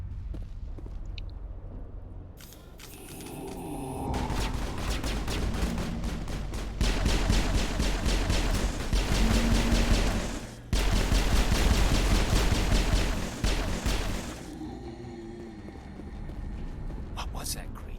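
Rapid, sustained automatic gunfire in Mass Effect 1, dense bursts packed from about the third second to the fifteenth with a short break midway, quieter game sounds before and after, and someone talking in places.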